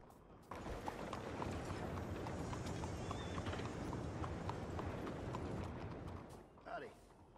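A horse in the Red Dead Redemption 2 game clip-clops along at a steady gait, its hooves thudding continuously at moderate loudness, with a brief whinny-like swell near the end and voices talking over it.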